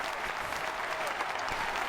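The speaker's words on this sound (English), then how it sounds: "Give Mick a round of applause, everybody." A studio audience gives a short round of steady applause for a guest at the end of a talk show, fairly quiet and even throughout.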